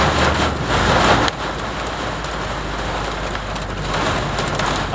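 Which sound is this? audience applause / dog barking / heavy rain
heavy rain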